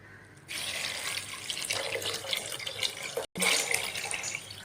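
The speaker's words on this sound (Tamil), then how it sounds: "எந்த கப்பில் பச்சரிசி எடுத்தேன்னா அதே கப்பில் மூன்றரை கப்பு தண்ணி ஊற்றிக்கலாங்க" Water runs in a steady stream into a cup, measuring out water for vegetable pongal in a home kitchen; the flow starts after a short pause, splashes continuously and briefly cuts out once.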